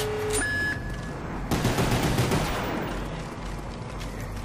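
Gunfire from the Black Ops Zombies game on the Moon map rings out as a loud, dense burst of shots and blasts, with in-game tones and background game noise.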